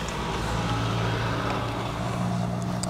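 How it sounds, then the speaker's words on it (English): Road traffic in Kino rumbles steadily and close by, with engines and tyre noise forming a continuous dense wash and no distinct passes. "A lot of traffic here in Kino."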